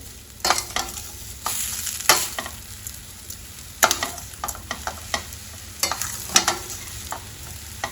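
A spoon scrapes and clacks in a heavy-bottomed pan in irregular strokes, stirring sweet vermicelli with cardamom over a faint sizzle, close by with no talking.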